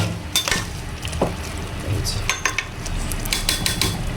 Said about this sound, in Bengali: যত মন চায় তত কষাও, মাংস সিদ্ধ না হওয়া পর্যন্ত